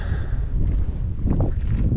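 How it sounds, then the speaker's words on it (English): Strong wind buffets the microphone in a steady, low roar near the top of 14,400-foot Mt Harvard, gusting slightly louder toward the end, with no voices. "And it's really windy"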